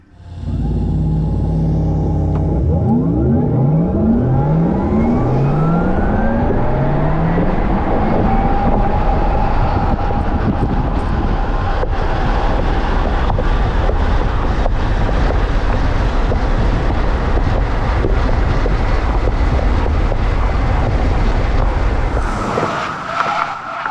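A 2022 Porsche Taycan Cross Turismo electric car launches hard from a standstill, its rising motor whine sweeping upward through a gear change as road and wind roar build loudly, then cuts off abruptly near the end.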